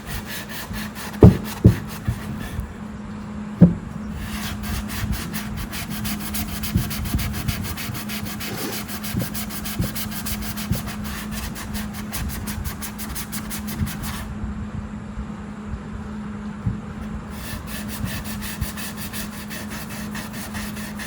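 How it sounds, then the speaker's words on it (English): A pine guitar body is hand sanded with fine sandpaper in a steady back-and-forth scratching rhythm that runs on without a break, close up and at an even level, with a few light knocks near the start. "And I'm not using a real aggressive sandpaper here, so that's why it's taking a little longer."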